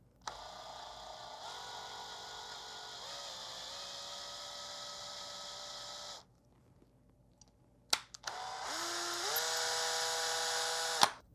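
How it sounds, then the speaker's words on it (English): A small motorized tool whines steadily while cutting M3 threads into two small holes for the grips of a replica prop build. One long, even run is followed by a pause, a click, and a second shorter run. "I've got to tap these 2 holes. Got an M3 tap right there."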